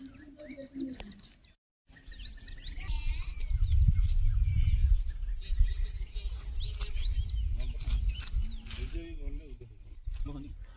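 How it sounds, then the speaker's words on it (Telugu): Small birds chirp and tweet in scattered bursts in the morning at a hilltop viewpoint over Rayagada town, Odisha, over a low rumbling wind-like noise outdoors, with occasional voices. "మీరు ఇటువంటి బర్డ్ సౌండ్స్ వినాలంటే మార్నింగ్ టైం"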